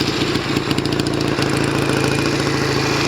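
A Norton Commando 750 motorcycle engine idles steadily, a close mid-pitched chugging with a slightly uneven rhythm from a tickover fault.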